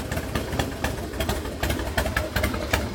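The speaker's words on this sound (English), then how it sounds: "And that idles on its own. Idles on its own just fine." A 2003 Harley-Davidson Super Glide motorcycle engine idles on its own, a steady, loud, lumpy rumble with uneven pulsing beats, heard close with no talk.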